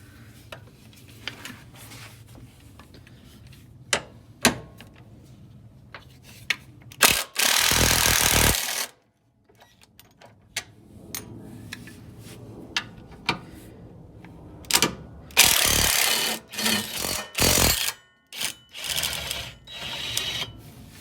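Mechanical tool work on bolts under a 2011 Buick Enclave, 15mm and 21mm sizes, during power steering pump removal: scattered clicks and clanks, then two loud bursts of power-tool whirring, one long and one short, plus a few shorter stuttering runs.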